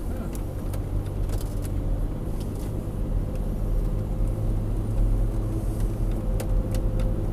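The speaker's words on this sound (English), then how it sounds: "Oh, you're going to pass on a corner?" Car passing on a corner of a Sacramento street, heard from inside a vehicle as a steady engine and road rumble with a slight swell, fairly loud and continuous, with no talk.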